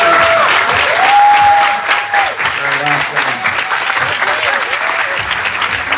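Loud, sustained applause from a live audience on a Brazilian stage show, steady clapping filling the room with crowd noise, while a voice speaks over it.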